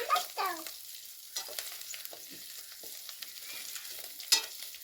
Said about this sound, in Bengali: ভাজো ভাজো ভাজো এবারে আদা বাটাটা দিয়ে দেবো ভাজো